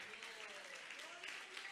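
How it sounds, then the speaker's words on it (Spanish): A church congregation claps in praise, a dense, steady patter of many hands filling the room, with a sung or spoken voice faintly running underneath. "Le damos palmas de alabanza a nuestro Dios"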